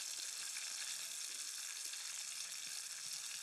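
Chopped onions and chilies stir-fry in a pan as a base seasoning for dal, giving a steady, dense, close sizzle that holds evenly throughout with no voices.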